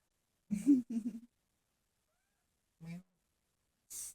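A kitten meows in short bursts, two close together near the start, then another after a pause and a final brief cry, fairly quiet and close with no talking.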